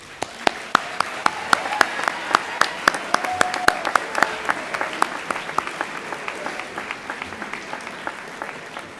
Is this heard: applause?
yes